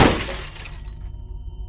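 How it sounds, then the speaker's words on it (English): A car window shatters inward under a tire iron blow, a loud close burst of breaking glass followed by a tinkling tail of falling shards that fades within a second. "The second shattered it inward."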